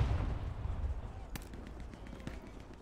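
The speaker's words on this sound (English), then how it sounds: "It's like a machine gun nest shooting at me" Machine gun nest fire in the World War II shooter Hell Let Loose, heard as a low rumbling burst of gunfire early on, then a sharp single crack and scattered distant shots under steady battlefield noise.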